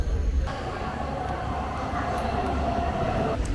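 Rome metro train in the station, a steady loud rumble of the moving cars with faint rail clatter and a brief high squeal, under a voice talking.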